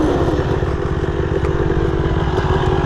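A Kawasaki KX250 dirt bike engine runs steadily at a fast idle, loud and close, a constant buzzing rattle with no voices.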